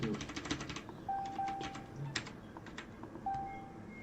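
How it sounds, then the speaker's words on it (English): Faint electronic reversing-style beeps, like a bus backing up, sound as a few thin single tones in the distance beneath close, steady computer keyboard typing. "Sounds like there's a bus backing up over there."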